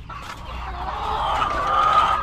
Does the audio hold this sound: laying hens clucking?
yes